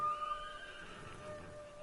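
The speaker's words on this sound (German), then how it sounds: "Pferd." A horse in the game Ghost of Tsushima whinnies in a single drawn-out neigh with faint hoof clip-clop beneath, fairly quiet and heard alone.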